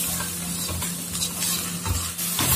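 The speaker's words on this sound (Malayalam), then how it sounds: "അപ്പൊ നമ്മുടെ ഈ സ്പൈസസിന്റെ ഒക്കെ പച്ചമണം മാറുന്ന വരെ ഒന്ന് ഇളക്കി കൊടുക്കാം." Garam masala and turmeric stirred as they fry in a pan for a jackfruit seed curry, a steady soft sizzle with scraping spoon strokes, close and alone without talk.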